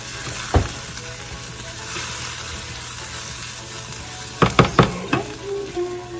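Onion with red chili powder sautéing in a pan, a continuous hiss of frying under a few sharp knocks and scrapes of a spoon against the pan, clustered near the end.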